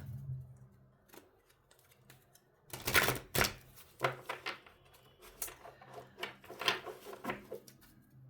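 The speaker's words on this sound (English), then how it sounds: "Trying to shuffle the deck without mashing it." Foil-edged tarot cards are shuffled close up in quick riffling bursts and soft slaps, with quiet pauses between.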